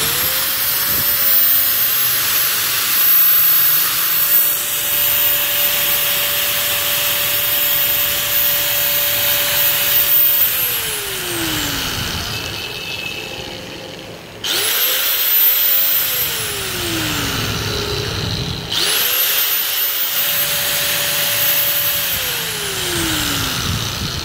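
A Maxpro 950W angle grinder with a slide switch runs with a steady high whine. It spins down three times, its pitch sliding lower each time, and restarts quickly, with a broad noisy hiss throughout.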